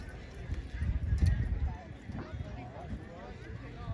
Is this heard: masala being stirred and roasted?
no